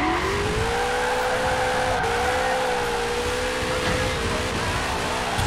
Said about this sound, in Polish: Jak to jest możliwe, że takie, słuchajcie, króciutkie autko tak mega sobie radzi na tym drifcie?